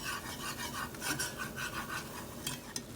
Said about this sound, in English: Whisk that around until it's smooth and bubbly.